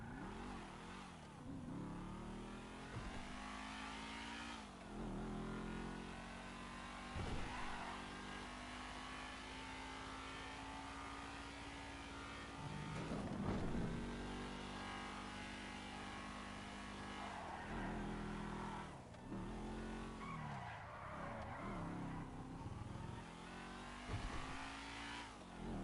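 The F620, an old two-seater car in GTA, drives with a steady engine drone that rises and falls through repeated revs and gear shifts, with occasional louder surges and sharp transients, close and continuous.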